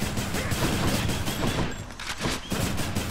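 Rapid bursts of gunfire from a gun weapon in the video game Hades, a dense rattling fusillade of close shots with brief gaps, loud and heard without talk.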